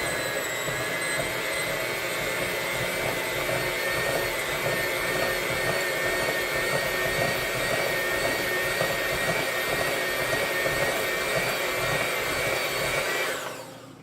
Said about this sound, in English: Take your mixer, start it out on a low.